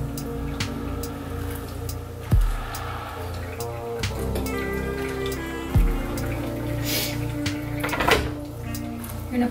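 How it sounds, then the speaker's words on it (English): Hot water pours steadily from a gooseneck kettle onto ground coffee in a Kalita Wave dripper, a soft continuous trickle with a low background hum and a couple of small clunks. "You're gonna pour it in a circular motion, which is why it's important to have the gooseneck kettle"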